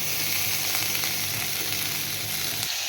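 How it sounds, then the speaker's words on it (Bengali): Brinjal pieces frying in oil in a kadai produce an even, close sizzle with light spatters and faint stirring ticks throughout, without any talking. "এবার আমি বেগুনগুলো ভেজে নেব।"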